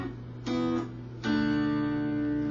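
Electric guitar playing a song riff, two plucked chords with the second left to ring out, clean and alone at a moderate volume.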